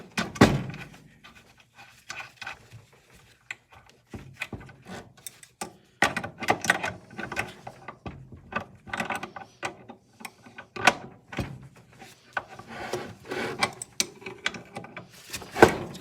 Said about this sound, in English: Trying to getting this screw off.